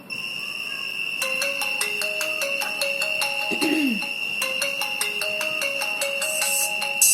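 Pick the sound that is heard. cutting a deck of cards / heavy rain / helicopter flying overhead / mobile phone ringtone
mobile phone ringtone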